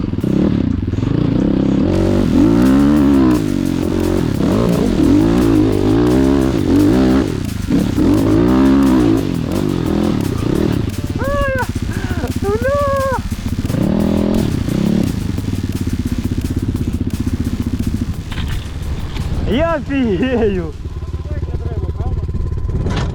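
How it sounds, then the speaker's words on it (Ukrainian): A GNS 300 enduro motorcycle engine running close by, revved up and down repeatedly with rising and falling pitch and some mechanical clatter, loud and steady throughout. "О, нормально. Мотор живий."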